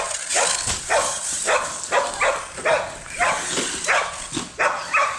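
A dog barks repeatedly in a steady rhythm, about eight sharp barks close by, with brief gaps between them.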